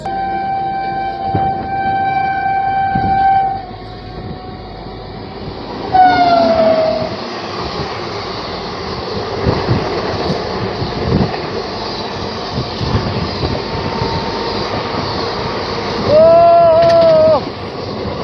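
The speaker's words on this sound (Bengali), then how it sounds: "সামনে থেকে আসছে 17482 তিরুপতি বিলাসপুর এক্সপ্রেস" The 17482 Tirupati–Bilaspur Express, hauling ICF coaches, rumbles past with a loud horn blast near the start and another toward the end, wheels roaring steadily in between.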